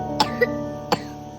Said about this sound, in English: Good coughing.